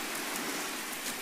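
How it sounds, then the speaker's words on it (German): Steady rain pours down in the Tomb Raider video game, in a New Orleans cemetery setting: a dense, even hiss of drops on surfaces, fairly close and continuous, with no voices. "Die sind mega kurz, diese Regengeräusche, deswegen sind die immer wieder laut."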